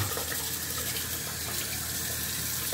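Tap water running steadily into a sink for rinsing the face after shaving, a constant close hiss of flow with no voices.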